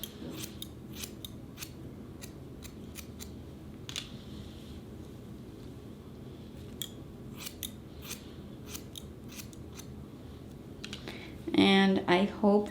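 Scissors snip through a man's hair in quick, crisp clicks, close and fairly quiet, spaced in short bursts over a low room hum, with a brief louder rustle near the end.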